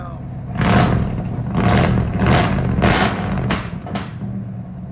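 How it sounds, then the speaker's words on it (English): Ford F-350 pickup with a 460 V8, headers and Flowmaster Outlaw exhausts, still a little cold, gives a run of about five loud, rough revving bursts with popping backfires, close and strong over a steady idle rumble. "You can hear it backfire."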